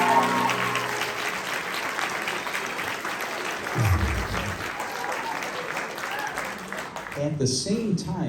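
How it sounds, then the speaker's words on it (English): Audience at a middle and high school holiday performance applauds with steady sustained clapping, while a voice speaks over the applause throughout. "with a round of applause, let's congratulate Maggie and welcome Nate up to the stage"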